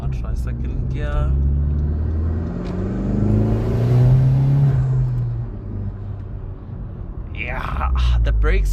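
A Honda Civic Type R (FK2) engine revs and accelerates up through second gear, its rising drone swelling louder, then easing off before climbing again, heard from inside the cabin.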